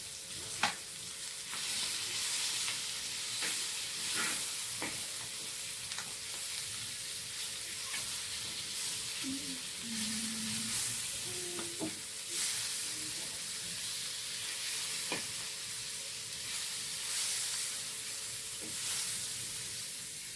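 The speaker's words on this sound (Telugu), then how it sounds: "తోమిన చేపలు ఇప్పుడు ఫ్రై అవుతున్నాయి బాగా" Small cleaned fish from a pond frying in a pan, giving a steady loud sizzle and hiss throughout with occasional crackles and pops.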